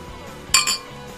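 Two quick bright glass clinks in The Sims 4, one sharp tap followed closely by a softer second, alone against a quiet background.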